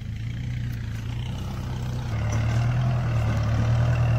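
Tractor in two-wheel drive pulling a harrow through a wet, muddy field, a steady loud low engine drone close by that deepens and strengthens partway through as the load increases, no talking.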